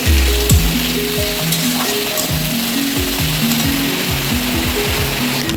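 Maggi noodles frying in a hot pan give a dense, steady sizzle close up, with small scraping and clicking noises running through it the whole time.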